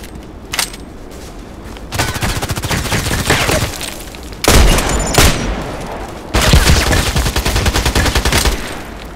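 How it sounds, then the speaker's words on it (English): Loud machine gun fire in the Contract Wars shooter, coming in three long sustained bursts of rapid shots separated by brief pauses, with one isolated crack early on. "Here's the machine gun"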